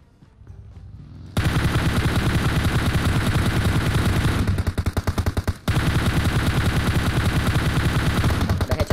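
Sustained automatic gunfire in the mobile battle royale game PUBG, a loud, rapid, continuous burst of shots that runs for most of the stretch with a brief break partway, heard alone without talk.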